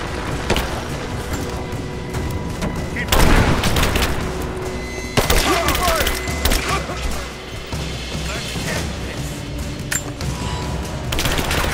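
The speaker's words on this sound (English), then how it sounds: "Open fire!" Gunfire in the video game Rise of the Tomb Raider: dense bursts of rapid shots and booming impacts over a continuous battle din, loud and close, with a voice calling out briefly.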